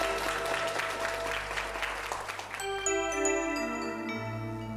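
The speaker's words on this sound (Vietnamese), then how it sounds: "Vỗ tay giới thiệu hoành tráng quá," An audience at a star-studded singing show at Phước Thắng temple claps for the introduced performers, a few seconds of full applause that gives way to chiming, tinkling music.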